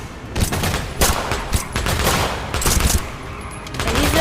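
Rapid gunfire from a multiplayer shooter game, with dense bursts of shots and volleys repeating across the whole stretch, loud and continuous with no talk over it.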